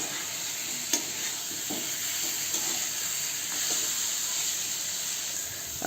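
Potato slices sauté in a pan over high gas flame, giving a steady close sizzle with a few soft clinks and scrapes of stirring, and no talk.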